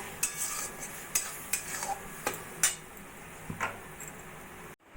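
A spoon repeatedly clinks and scrapes against a pan while mango pickle is stirred with dry-roasted, ground chilli spice mix, giving a series of sharp, close metallic taps, then a sudden cutoff near the end.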